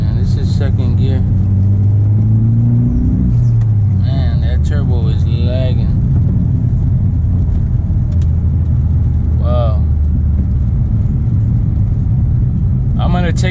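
A Mitsubishi Evo with a flooding problem pulls hard in second gear, its engine rumble rising and falling as a loud, steady drone while people talk over it.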